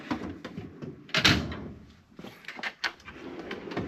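A drawer on a US General tool chest slides open with a metallic rumble and clatter, followed by lighter rattling and knocks from the drawer and tools, close by and without talk.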